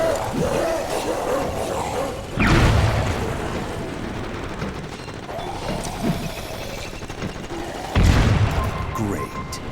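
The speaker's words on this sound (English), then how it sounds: "Use your grenades to blow these freaks to pieces." Grenades explode in the Crackdown 2 video game: two heavy booms with rumbling tails, about five seconds apart, set against ongoing game noise and a voice.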